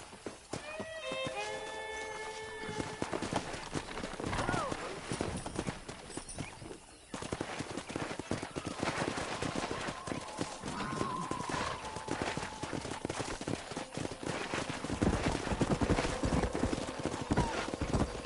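Rapid hoofbeats of galloping horses in the video game Red Dead Redemption clatter continuously, with a horse whinnying early on, busy and fairly close.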